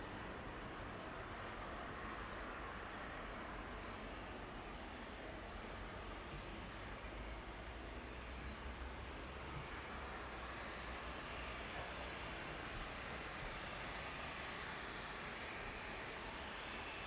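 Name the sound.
Boeing 737 jet arriving at East Midlands Airport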